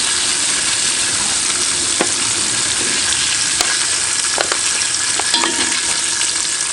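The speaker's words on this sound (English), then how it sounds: "Sizzle that up. Just brown on the outside a little bit." Loud, steady sizzling and crackling of chicken browning in hot oil in a South African potjie pot, with a few sharp pops and scrapes, no voices.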